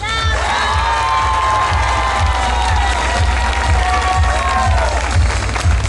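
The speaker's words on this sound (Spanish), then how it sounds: "El aplauso nada más y nada menos que para" Concert audience cheering and applauding loudly and steadily, with shouts and whoops rising above dense clapping and a rhythmic low thump from the stage sound underneath.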